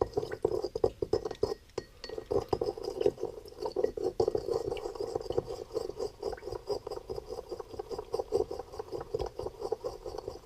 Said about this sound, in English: we want this to fully dissolve. So we're going to stir it up.